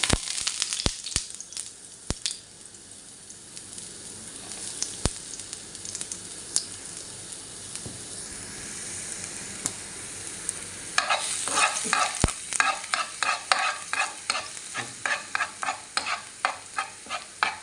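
Crushed garlic fries in hot oil: scattered clicks and a low crackle at first, then a louder burst of sizzling with rhythmic stirring scrapes in the second half.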